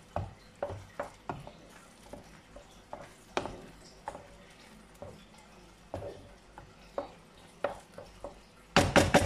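A spoon stirs pumpkin risotto in a pot, knocking and scraping in irregular, close clicks every half second or so, with no talk and a brief harsh burst at the very end.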